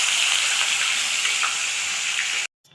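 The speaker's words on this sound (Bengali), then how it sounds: "কড়াইতে মাছটা দিয়ে দিলাম।" Fish sizzling and crackling as it hits hot oil in a kadai: a steady, dense hiss for over two seconds that then cuts off sharply to near silence.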